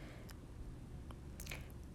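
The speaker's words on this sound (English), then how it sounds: "Start mixing it all together and try to make a thick paste as much as you can." A thick skincare paste stirred in a bowl gives soft, wet squishing and scraping with a few sharper clicks. The sound is faint and close, over steady low background noise.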